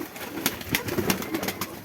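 Soft, low coos from a Pakistani breed pigeon repeat a few times close by, with light rustling and clicking in the background.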